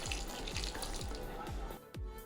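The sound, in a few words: hot water poured into a pan of fish curry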